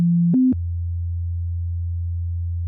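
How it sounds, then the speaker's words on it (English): A synthesizer oscillator plays a pure sine wave tone, stepping briefly up in pitch with two soft clicks before dropping to a steady, low, unwavering hum that holds to the end. "take this sine wave and really beef it up a bit"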